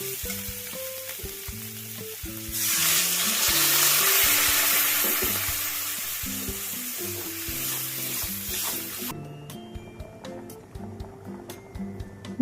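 Water poured into a pan of small fried potatoes for aloo dum sets off a loud, hissing sizzle that lasts several seconds before easing off, with music playing underneath throughout.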